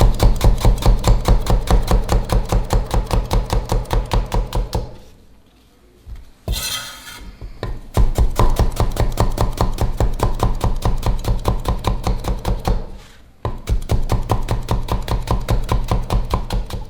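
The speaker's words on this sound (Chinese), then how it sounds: "从中间切开之后直接切成片即可" A chef's knife slices eggplant into even pieces on a cutting board, producing fast, evenly spaced chopping taps with two short pauses, loud and close.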